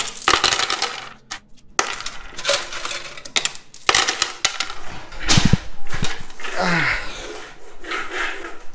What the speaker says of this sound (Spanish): También le hemos metido de 2 pesos,